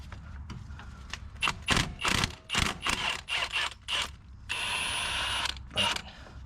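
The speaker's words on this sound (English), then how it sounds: "Take all the bolts out for the CV axle." Tools clink and bolts rattle as the CV axle bolts come off a 2007–2013 GMC Sierra 1500 4x4, a string of close metallic knocks and scrapes followed by a steadier whirring stretch near the end.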